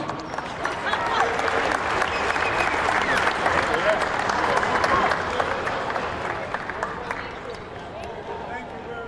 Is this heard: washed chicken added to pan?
no